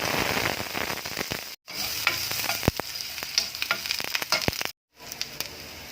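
Garlic sizzles in hot oil in a pan, a loud steady crackle broken by sharp spatters and two brief cuts to silence, with no talking.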